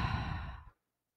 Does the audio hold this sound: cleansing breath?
yes